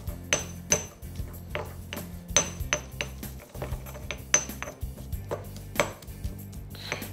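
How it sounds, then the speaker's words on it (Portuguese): Garlic cloves being crushed in a home kitchen for a herb, lemon and olive oil paste for Spanish mackerel baked in papillote, heard as a series of sharp, close knocks and clinks against a hard surface in an irregular rhythm, with no talking. "Esmaguem bem o alho."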